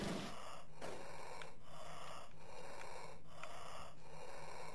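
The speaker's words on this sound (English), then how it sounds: "The breathing gets real old." Heavy, rasping breaths from the Amiga Jaws video game repeat in a steady loop about every 0.8 seconds, each inhale and exhale loud and close over a constant low electronic hum.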